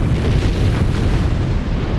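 A huge atomic bomb blast from the Hiroshima attack, a sustained deep roaring rumble that fills the whole stretch at high loudness with no distinct onset or pauses.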